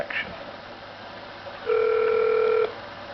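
A telephone gives one steady electronic tone burst lasting about a second, clear and fairly loud over quiet room noise.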